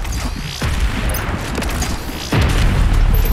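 An enemy bursts apart mid-air in DOOM Eternal, with two heavy booming blasts about two seconds apart over dense, loud game noise.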